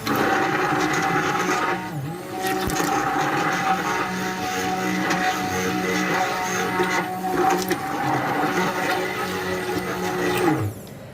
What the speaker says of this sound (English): we're going to just pulse this with this stick blender